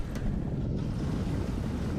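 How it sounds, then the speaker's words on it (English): Strong north wind of 15 to 20 knots buffets a sailing boat on open water, a continuous low roar of gusts and microphone rumble with waves washing faintly beneath. "It's a beautiful day, but windy."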